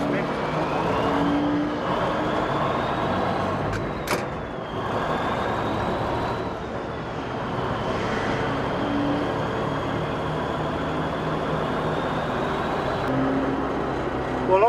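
An old truck with loose, worn steering drives along, its engine droning steadily under the cab while someone talks over the constant road noise.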